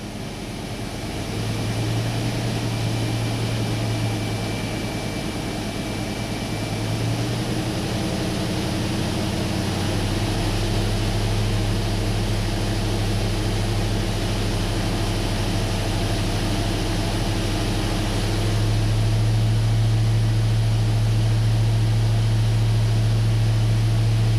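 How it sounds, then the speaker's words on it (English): A Chevy engine idles with a steady low drone, then revs up in distinct steps to higher speeds, loud and close, with no talking over it. "Rev it up a little bit."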